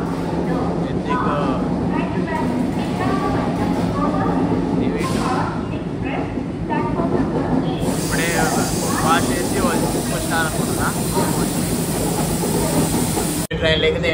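The Visakhapatnam to Araku vistadome coach train rolls along with a steady rumble and hiss inside the carriage, while a voice talks over the running noise throughout.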